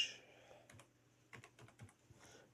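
Quiet computer keyboard typing of a short command, a few scattered keystrokes then a quick run of clicks, faint and close with a low background hum.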